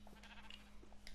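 A video-game sheep on a wheat farm gives a short, faint bleat over a steady low background hum, all within about a second.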